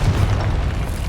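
The Confringo spell explodes in Hogwarts Legacy as one loud, close, deep boom with a rumbling roar that holds for about a second.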